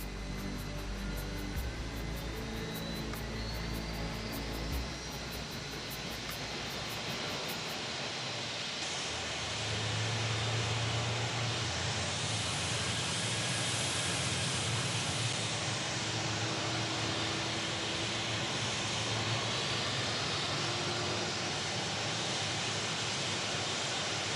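A Cessna propeller engine starting up runs with a steady broadband roar and low throbbing hum, loud and continuous, swelling slightly in intensity partway through.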